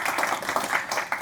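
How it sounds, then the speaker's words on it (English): A live audience applauds to welcome Scott Snibbe onto the stage at a talk on technology, Tibetan painting and interactive art, with dense, steady clapping that carries fairly loud through the whole moment. "with a round of applause, please welcome to the stage Scott Snibbe"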